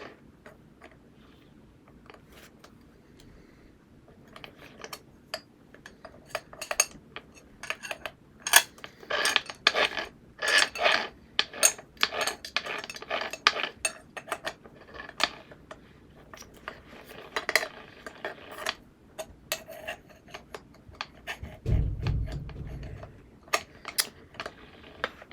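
Metal parts of a Craftsman corded angle grinder are handled while the disc is changed, giving scattered clicks, clinks and rattling knocks in irregular bursts, close and moderately loud, with a brief low thud near the end.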